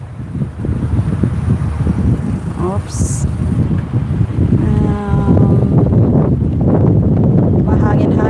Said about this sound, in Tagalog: Mahangin-hangin na.